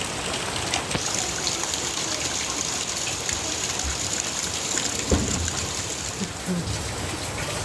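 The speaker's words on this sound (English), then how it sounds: "Every single container and bucket we have is now overflowing" Heavy rainwater overflows containers and buckets aboard a cruising boat in Endeavour Inlet, a continuous close gushing and trickling wash with occasional splashes and drips.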